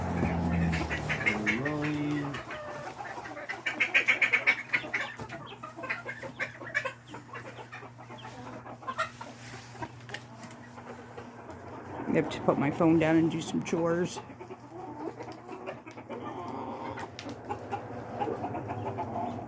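Backyard Silkie chickens cluck and murmur nearby in their coop throughout, with a steady hum underneath and a person talking briefly over them.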